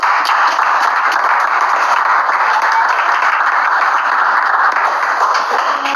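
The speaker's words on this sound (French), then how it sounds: "Acclamons pour le Seigneur." A church congregation in Yaoundé claps steadily and continuously as a dense, loud wash of applause, with no pauses throughout.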